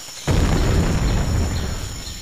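A grenade blast in a multiplayer war game erupts suddenly and loudly after a brief quiet moment, then rolls on as a broad, sustained rumble that slowly fades without dying away.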